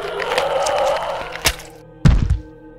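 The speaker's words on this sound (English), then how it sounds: "A heavy thud sounded beside her as something with a bulk much bigger than her own hit the floor." A large body hits the floor with one heavy, deep thud, preceded by a sharp crack and fading into a brief rumble.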